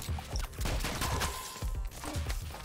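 Rapid gunfire from the video game Rounds, bursts of sharp shots running almost continuously with brief gaps, loud and close.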